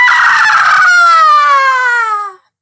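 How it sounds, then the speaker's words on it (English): A loud, close rooster crow, one long drawn-out call that slides gradually downward before cutting off. "And Rooster flew up to the roof beam."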